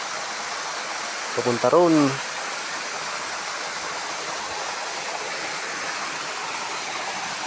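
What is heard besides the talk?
waterfall crashing into a deep pool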